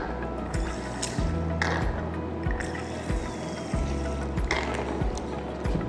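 Distilled water pours and trickles into a glass beaker in several short bursts, with faint clinks between pours.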